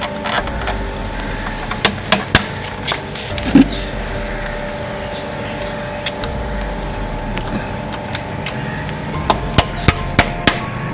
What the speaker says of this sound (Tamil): இந்த சின்ன பின் இருக்குது பார்த்தீங்களா, அந்த பின்னை தட்டி வெளில எடுக்கணும்